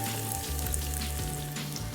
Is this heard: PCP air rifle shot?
no